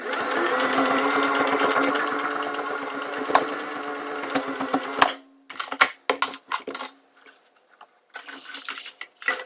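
A sewing machine stitches elastic into a cloth diaper, running in a fast, close mechanical chatter for about five seconds, then stopping and restarting in short bursts.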